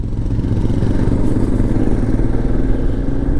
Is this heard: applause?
no